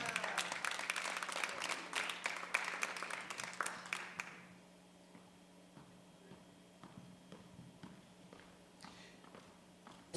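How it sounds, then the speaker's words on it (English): An audience at a natural bodybuilding show claps in a lively burst of applause for a roofing sponsor, fading out after a few seconds into quiet room noise with scattered faint taps. "Let's give them a round of applause."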